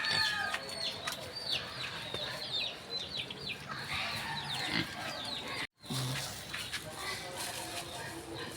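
Piglets on a farm squeal and grunt in a busy, overlapping jumble at close range, with chickens clucking around them and a person talking now and then; the noise cuts out briefly near the end.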